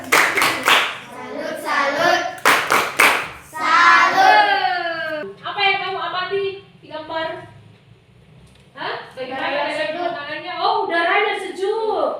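A class group claps together in a rhythmic chant-style cheer at a Catholic religious education teaching practice session, close and loud, with sharp clap bursts between children's and adults' voices chanting and speaking throughout.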